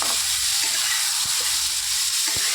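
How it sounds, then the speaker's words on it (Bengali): Greens stalks for a Bengali chorchori fry in oil with a loud, continuous close-up sizzle and hiss, broken by a few soft stirring knocks, with no voices. "ডাঁটাটা যতক্ষণ তেলের পরে নরম না হবে ততক্ষণ আমি নাড়াচাড়া দেবো।"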